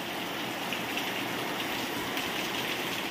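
Steady rain pours down in a dense, continuous hiss, close and even throughout with no pauses and no one speaking.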